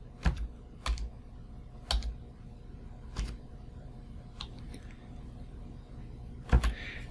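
Keys on a computer keyboard are pressed in short, separate clicks, a few sharp taps spaced out over several seconds with a quick double tap near the end, close and quiet.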